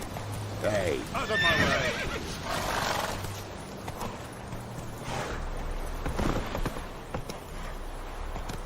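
Roach the horse in The Witcher 3 whinnies loudly near the start, then hooves clip-clop steadily throughout, mixed with game ambience while a voice calls out over it.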